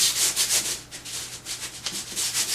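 Sandpaper rubbed by hand over a drywall patch on an outside corner, quick rhythmic back-and-forth scratchy strokes, close and fairly loud, with no talking.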